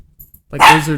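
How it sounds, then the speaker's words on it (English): A pet dog lets out a single loud, close bark-like yelp after a near-silent moment, with a few faint sounds before it. "That's our dog."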